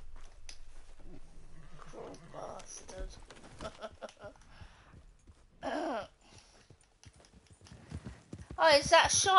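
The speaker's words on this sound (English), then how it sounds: "Oh, is that Shire horse you got?" A Shire horse in the video game Red Dead Redemption 2 clops along with intermittent hoof knocks at moderate volume, joined by short loud animal snorts, and people talk over it.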